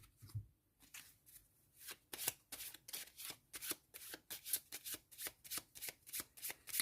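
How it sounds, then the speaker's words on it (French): Cards drawn one after another from a deck for the Sleeping Gods board game, a quick series of crisp, close slaps and flicks, soft and steady, with no talking. "Et je vais piocher 6 cartes."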